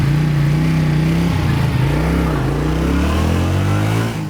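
A police motorcycle engine revved to about 4,000 rpm and held there, a loud, steady drone with a small dip in pitch partway through before settling back.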